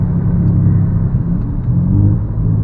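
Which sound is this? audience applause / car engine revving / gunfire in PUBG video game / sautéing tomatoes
car engine revving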